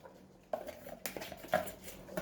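Sliced plantain drops into a cooking pot for plantain porridge with palm oil, crayfish and onion: three or four quick, close clinks and soft thuds of pieces landing against metal, with no talk.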